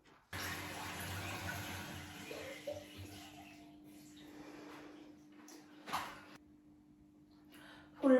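Tap water running at a bathroom sink while a face mask made of natural ingredients is washed off, a soft steady flow that dips and fades midway, with a few splashes and a louder knock at the end.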